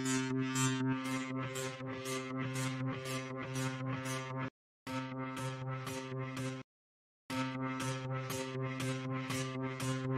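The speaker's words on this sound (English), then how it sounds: "it's the sound of those drives, but pitched so you can play melodies" Floppytron sample instrument built from pitched floppy disk drive sounds plays a buzzy, tonal melody of rapid repeated notes, loud and steady, broken by two brief silent gaps.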